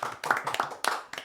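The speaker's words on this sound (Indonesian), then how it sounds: "Tepuk tangan dulu untuk Coach" A short burst of hand clapping for a football coach, a few scattered claps spread over about a second, fairly close and not very loud.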